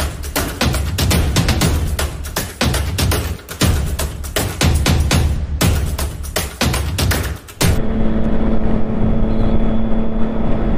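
A 2015 Triumph Street Triple 675 motorcycle roars loud and close, its engine note pulsing in rapid bursts before settling into a steady idle hum, with no talk.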